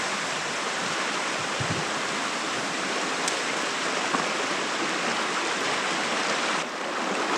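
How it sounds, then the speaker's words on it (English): A fast-flowing Appalachian mountain creek rushes loudly and steadily, a dense continuous roar of churning water heard up close with no voices. "This creek is ripping and rolling"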